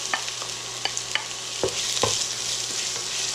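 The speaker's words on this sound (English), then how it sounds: "Now I'm adding the chopped onion." Chopped onion sautés in a hot pan, a steady broad sizzle running throughout with scattered clicks and scrapes of stirring, close and moderately loud, no voices.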